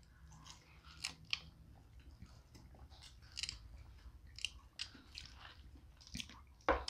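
Someone chews a crunchy beer-battered fish sandwich up close in a mukbang, with repeated soft crunches and moist squishy bites, ending in a sharper crunch.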